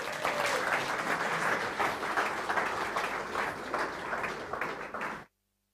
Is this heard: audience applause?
yes